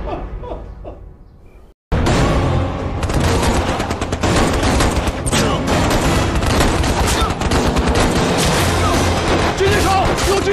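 Sniper fire in a kung fu anti-Japanese war drama: after a quieter moment, a sudden, loud, dense barrage of gunshots and blasts erupts and keeps going without a break.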